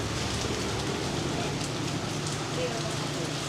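Steady broadband hiss of rain pouring down in the Philippines, continuous and fairly loud, with a low hum underneath throughout.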